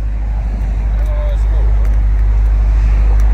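A Dodge Charger SRT widebody Scat Pack idles with a deep, steady, close engine rumble, while people talk nearby.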